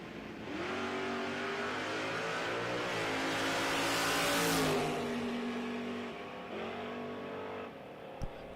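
Chevrolet Malibu and Camaro drag racing at Kil-Kare Dragway in a no-prep event, engines revving loudly and rising as the cars launch and pull away, without talk.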